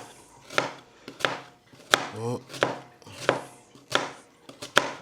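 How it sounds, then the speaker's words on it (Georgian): A knife chops ingredients finely on a board for a sausage solyanka soup, giving sharp, close strikes about every 0.7 seconds, broken once by a brief scraping sweep, with no talking. "აი ეს ჩაჭრებს ვაკეთებთ. რომ გამოგვივიდეს ძალიან წვრილი."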